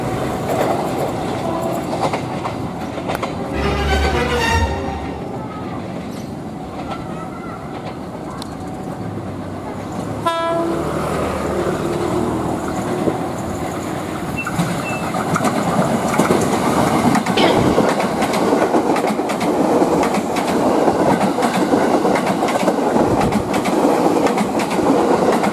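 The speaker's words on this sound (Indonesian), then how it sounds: "Oh, ada KRL." A KRL commuter electric train rolls past close by in a narrow alley, a steady loud rumble with rhythmic clickety-clack of wheels over rail joints and brief squeals, filling the whole stretch.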